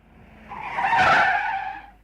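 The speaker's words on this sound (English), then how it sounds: "Wow, look at that car. It's going really fast." A fast car skids with a loud tire squeal that swells over about a second and then fades away.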